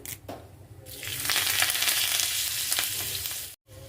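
Curry leaves hit hot oil for a mustard-seed tempering over a yogurt-and-green-chilli bhajji, bursting into a loud, steady crackling sizzle that holds for a few seconds and then cuts off sharply.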